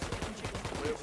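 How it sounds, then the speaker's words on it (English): Rapid gunfire during a firefight in the video game Ghost Recon Wildlands, a steady run of loud shots packed close together for about a second. "Opening fire on these fuckers."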